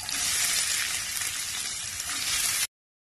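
Chopped onions sizzle and fry steadily in a hot pan for chicken dum biriyani, a continuous close, loud crackling hiss with no talking, cutting off abruptly near the end.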